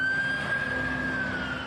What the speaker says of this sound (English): You can hear the sirens as first responders race to the scene.